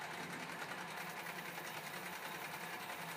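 A metal lathe running while a taper is turned on a part, a steady close mechanical whir with a faint rapid rattle, constant in level throughout.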